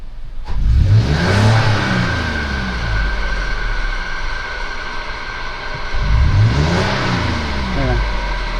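A Toyota FJ Cruiser engine, oxygen sensor connected, revs up twice with rising, sweeping tones, settling back to a steady idle between the pulls.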